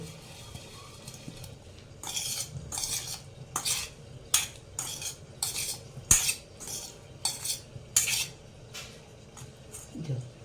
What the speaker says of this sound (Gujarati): જો આ રીતના આપણે બધા બટાકીઓને ગોટ કરી દઈએ